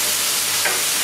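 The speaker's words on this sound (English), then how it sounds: "We're gonna go ahead and put in the" Capers tipped into a pan of tuna pasta sauce that has been cooking: a steady loud sizzle throughout, with one soft brief splash as they land.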